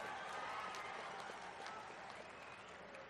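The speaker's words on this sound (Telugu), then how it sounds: "కార్యకర్తలందరూ కూడా చప్పట్లతోని కేసీఆర్ గుండెలు బలగొట్టాలి" Party workers at a public meeting in Bhadrachalam break into dense, steady applause that sounds like a large crowd heard from a distance and fades slightly toward the end.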